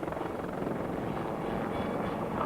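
A British Army Lynx helicopter in flight gives a steady, broad rotor and engine roar that holds at an even level throughout, with no talk over it.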